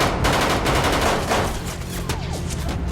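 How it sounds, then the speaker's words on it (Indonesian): Rapid bursts of gunfire in an action film shootout, dense and loud at first, then thinning into scattered shots with a brief screech, with no talking. "Juan berhasil bangkit lalu melesatkan tembakan yang mengenai Lola."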